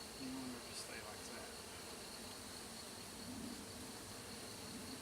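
Honey bees buzzing around hive frames while a package colony is installed, a steady close insect hum with a brief voice-like tone near the start.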